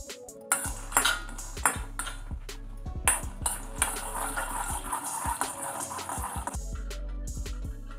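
Peanuts dry roasting in a kadai for chutney rattle and ping against the metal as they are stirred, giving sharp clinks and scrapes in an irregular rhythm, close up with no talk.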